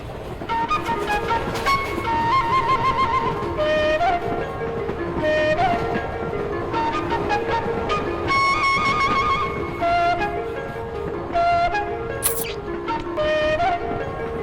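A passenger train rolls along the rails, a steady loud rumble with rhythmic clatter and tonal whining from the carriages, continuing throughout the journey.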